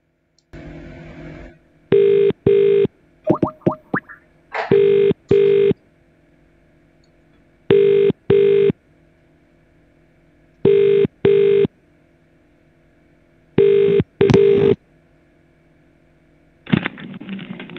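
An outgoing cold call on a telephone line: a brief dial tone and quick keypad dialing tones, then a steady series of loud paired ringback rings at regular intervals, close and clear, with no voices until the line picks up at the end.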